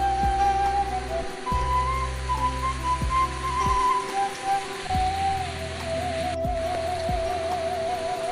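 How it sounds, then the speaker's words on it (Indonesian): Heavy rain pours steadily over a rural village with gardens, a dense, loud, continuous hiss with a faint whistle-like tone and low rumbling underneath, no voices. "beginilah kondisi pedesaan guyur hujan"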